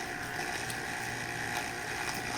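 A single 12V DC water pump runs with a steady, dense mechanical whir and churning water noise, constant and loud throughout, with no talk.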